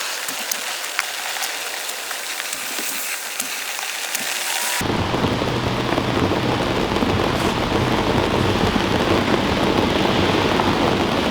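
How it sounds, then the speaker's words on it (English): Steady rain pours outdoors at a garden greenhouse build in Georgia in winter. It begins as a lighter patter, then grows into a dense, loud hiss of downpour on surfaces, with possible distant thunder rumbling. "I'm going to take a break here and get out of the rain."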